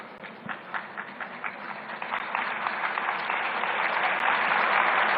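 An audience bursts into applause, the clapping starting as distinct rhythmic claps and swelling into a loud, continuous roar of hands by the end.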